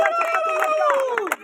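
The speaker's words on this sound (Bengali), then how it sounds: "জোরে করতালি।" Audience at an outdoor sports prize-giving gives loud applause after a batsman's century is announced, a dense crowd of clapping and cheering under chatter, fading out near the end.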